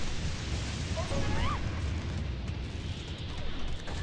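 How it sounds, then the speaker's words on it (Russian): A mass explosion in the mobile strategy game Tower Conquest, heard as a dense, continuous rumbling roar of blasts and crashes at moderate volume that carries on without pause. "вот этот вот взрыв сейчас массовый"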